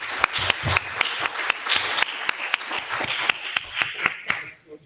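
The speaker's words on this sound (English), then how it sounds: "I would like to ask for a round of applause to our speakers." A small forum audience claps for panel speakers at the close of a session: distinct, fairly sparse individual claps with a steady rhythm, filling the room for a few seconds before fading out.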